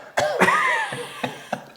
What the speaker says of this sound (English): That cough is the worst.